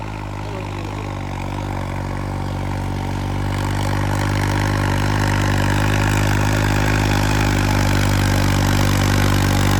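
A modified 3630 tractor engine runs steadily, a loud low-pitched diesel drone with strong harmonic throb that builds slightly in intensity partway through and holds there, with no voices over it.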